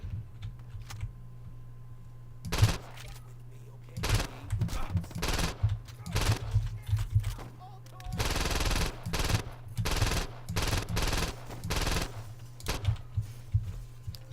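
Shotgun blasts in the PC game Saints Row 2 come as irregular bursts of loud, sharp bangs, some spaced apart and some clustered in rapid runs, over a steady low background hum.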